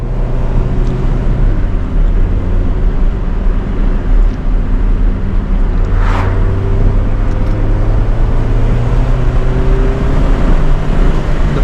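Car cruising on the road after engine work, a steady engine and road drone with tonal hum that shifts slowly in pitch, heard from inside with no talking.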